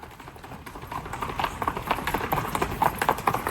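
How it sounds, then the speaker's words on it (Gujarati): Two Kathiyawadi horses walk along in the early morning, their hooves clip-clopping in a steady, even rhythm that grows louder as they come closer. "બે ઘોડીઓ લઈને ગેટમાંથી પ્રસ્થાન થઈ જો ઓલા બે ઘોડા આવે છે આપણા ઘોડા આવે છે"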